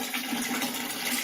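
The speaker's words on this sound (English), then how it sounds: "We've got a primed sump pump here to run water out" A primed sump pump pushes water from a spring house out to field troughs for sheep, giving a steady hissing, rushing flow close by with no voices.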